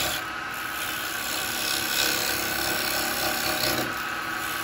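A carbide chisel cuts a wooden bowl turning on a lathe, giving a continuous loud rasping, scraping hiss that holds steady and fills the whole stretch with no voices.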